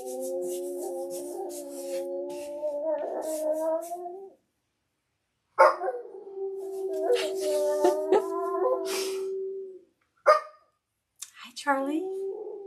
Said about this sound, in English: The dogs are howling.